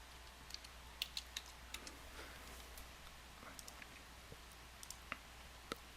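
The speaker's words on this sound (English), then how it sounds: "we'll type in box 2." Faint, sparse clicks of a computer keyboard as a search is typed into software, scattered quiet taps over a low room hum.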